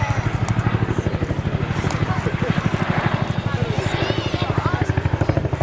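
A Chinook twin-rotor helicopter performs a flying display at the Wales National Airshow, its rapid heavy rotor thudding steady and loud throughout under a commentator's voice.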